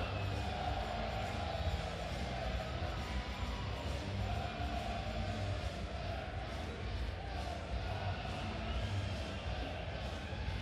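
A large crowd at a timber sports team world championship greets Team Romania with a steady, distant roar of cheering and clapping that holds evenly throughout, a loud announcer's voice carrying over it.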